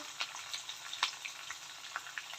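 Cumin seeds sizzle in hot oil on a low flame for Tamil Nadu style ven pongal, a close, steady crackling hiss dotted with small sharp pops, with no voice.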